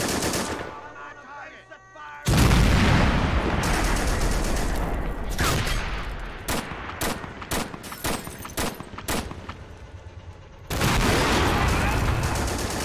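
Men of War battle sounds during the 1944 Saipan airfield assault: heavy bursts of gunfire and booming rounds hit a building, loud and continuous with sharp separate shots in between, with a voice briefly heard under it.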